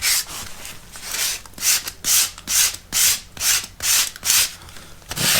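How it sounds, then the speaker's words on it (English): Sandpaper rubbed by hand around the sides of a wall-mounted electrical socket, a steady rhythm of about ten close, scratchy back-and-forth strokes. "then we'll sand it around the sides"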